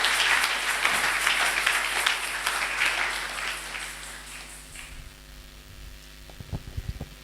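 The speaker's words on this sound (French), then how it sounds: "Acclamons pour Jésus-Christ." A church congregation claps and cheers in acclamation of Jesus Christ. The dense applause fills a large room for several seconds, then thins out and fades, leaving a low hum and a few scattered claps.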